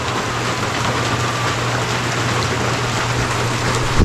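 Heavy rain from a typhoon pours down in a steady, dense roar that holds at a constant loud level throughout, with no voices.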